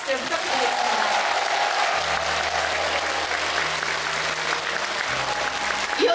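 Audience at a Buddhist ceremony applauding the monks, a steady wash of many hands clapping at moderate distance, continuous throughout with a low hum beneath and faint voices in the background.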